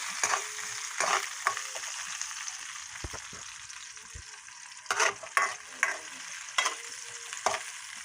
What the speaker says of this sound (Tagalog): Ilagay na natin yung sibuyas. Haluin natin hanggang mag-brown din.